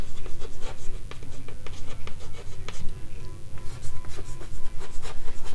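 A pen scratches across paper in quick, rhythmic strokes, writing out a short verification step in a math solution, close and continuous with no talking over it.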